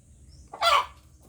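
A native chicken in a coop gives a single short, loud squawking call against a quiet background hum.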